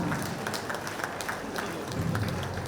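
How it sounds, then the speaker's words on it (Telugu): Audience applause at a political rally in Guntur, a steady wash of clapping that holds at an even level throughout, moderately loud and somewhat distant. "ఒకసారి మాధవి మేడకు గట్టిగా చప్పట్లతో మనం ఒక కొత్త శక్తిని ఇవ్వాలి"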